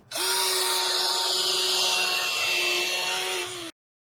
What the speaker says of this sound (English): Whenever I'm drilling holes in the plywood, it's stripping through.